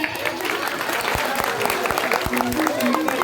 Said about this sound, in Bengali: একটু হাতে তালি দিন